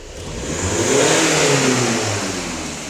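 A Skoda Kodiaq 2.0 TDI diesel with a particulate filter fault revs up loud and close, the engine note climbing to a sustained high-rpm roar before easing slightly, with no one talking.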